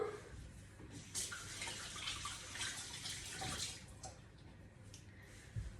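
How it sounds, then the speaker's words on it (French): Running tap water pours steadily while hands are rinsed under it after handling raw potato in a kitchen, a close, fairly quiet splashing with a few small clunks and no speech. "Je me rince les mains."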